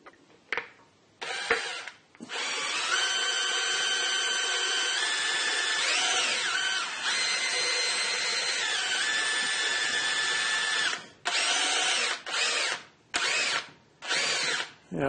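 A Harrison M300 lathe runs steadily with the apron feed engaged, a sustained mechanical whine with shifting tones lasting several seconds before stopping, then several short bursts as it is restarted.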